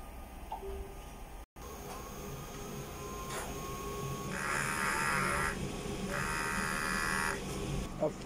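A sublimation printer runs a print-head cleaning cycle, with a low mechanical hum and faint ticks, then two distinct whirring motor bursts a couple of seconds apart, close and moderately loud.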